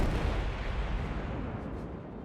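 A Kutuzov cruiser in World of Warships fires an armour-piercing salvo, a heavy booming blast that rumbles out and fades over about two seconds, loud and close.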